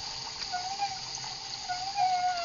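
Running water from the Sprinkle firefighting game, played as an Android app on an Asus Eee Pad Transformer tablet: a steady, moderately loud rushing stream with faint tonal game sounds, continuous for the whole stretch with no talking.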